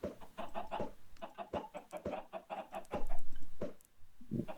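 Chickens in the Minecraft video game cluck in quick, repeated bursts, with several short rhythmic clucking phrases separated by brief pauses, close and clear, with no talking.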